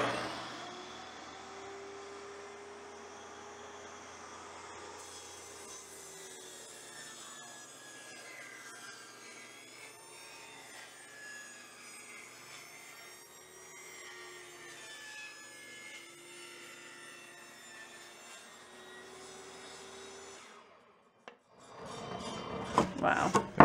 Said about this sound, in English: I mean, honestly, just use the jigsaw